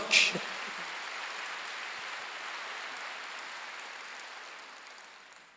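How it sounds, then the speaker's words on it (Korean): Congregation applauding during a Sunday worship service at a church, a steady wash of many hands clapping that fades gradually, following a brief louder burst at the start. "믿는 사람만 박수로 와주세요"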